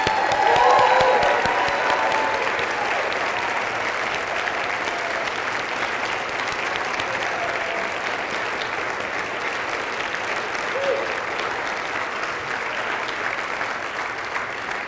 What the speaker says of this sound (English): Please join me in a round of applause to welcome our new officers.